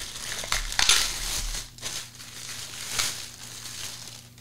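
Packaging being torn open and crinkled while unboxing outdoor flame-effect torch lamps with Bluetooth speakers, close bursts of crushing and rustling plastic and cardboard, loudest early then settling into lighter crinkles.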